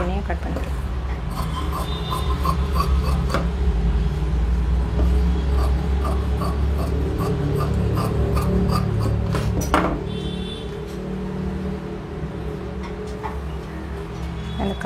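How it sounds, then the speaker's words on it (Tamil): Blouse fabric pieces are cut with scissors, giving a run of close, crisp snipping and rubbing sounds in an irregular rhythm while someone talks over them. "இன்னும் 2 துணியை கட் பண்ணிக்கலாம்."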